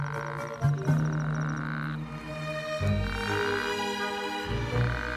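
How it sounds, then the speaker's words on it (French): Loud, repeated toad croaks in close, overlapping bursts, with other calls joining in a steady chorus and no talking. "Plus son coassement est fort, plus ses chances de s'accoupler sont grandes."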